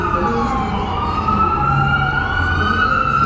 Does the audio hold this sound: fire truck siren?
yes